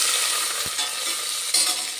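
Spices frying in hot oil in a pan for aloo matar pulao, ready for onions; a steady, close, bright sizzle hisses throughout with a soft stirring knock near the middle.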